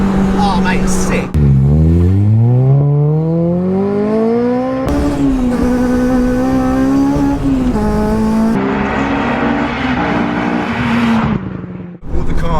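A naturally aspirated carbon Honda Civic Type R EP3 track car pulls away hard and revs through rising gear pulls, with sharp shifts between them. The engine note is loud and close, and occupants talk over it.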